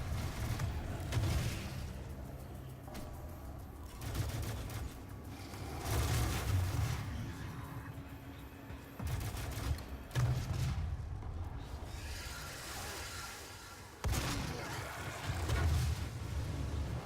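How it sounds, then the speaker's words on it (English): Explosive shotgun blasts and grenade explosions in the DOOM video game, a series of heavy booming bursts about every two seconds over a constant low game rumble, with no talking. "let's try out our explosive shot with speed of recovery and our grenade"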